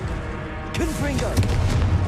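A Confringo blasting spell cast in Hogwarts Legacy lands as a loud boom at about three quarters of a second, followed by crackling bursts over a steady game backdrop with voice-like sounds.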